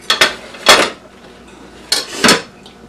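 A knife cuts a slice from a bacon and egg sandwich with a few short, sharp clinks of metal on a plate, heard in two quick pairs close up.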